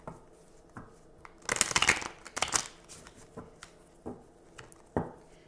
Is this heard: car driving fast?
no